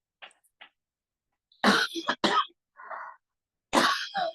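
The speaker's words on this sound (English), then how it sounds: "I'm going to cough just a minute." Several close coughs and throat clearings in quick bursts, with short quiet gaps between them.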